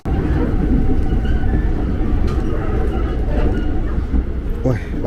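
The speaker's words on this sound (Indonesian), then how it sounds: "langsung papasan sama KRL Inka" An INKA-built KRL commuter electric train passes on the line toward Manggarai, heard from aboard another train as a steady, loud rumble and roar with faint rail clatter throughout.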